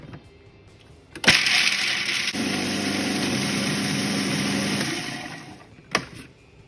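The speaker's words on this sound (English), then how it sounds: "So put 100 grams of hazelnut into the food processor" A food processor whirs loudly as it grinds 100 grams of hazelnuts, starting abruptly and running steadily for several seconds before spinning down, followed by a short clunk.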